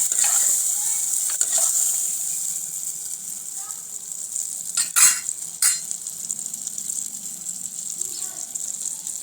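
Long beans sizzle in hot oil with a spice tempering and a little tomato, a steady close hiss of frying broken by a few sharp crackles and stirring clicks.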